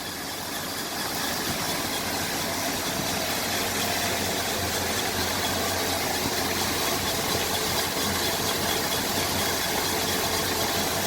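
A 1986 Ford F250 pickup engine running after a tune-up, a steady close idle rumble with a constant mechanical drone and no voices over it.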